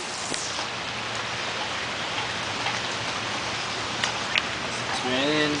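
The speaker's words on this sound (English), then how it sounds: "It's raining." Steady rain falls outdoors in a neighborhood, a constant hiss of drops with a few louder splashes, and a voice is briefly heard near the end.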